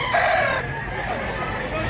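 A big rooster crows once, a clear nearby cock-a-doodle-doo rising and trailing off over faint outdoor background noise.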